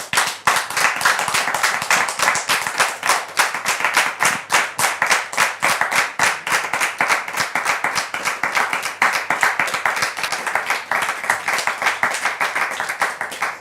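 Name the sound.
audience applauding as Daniel enters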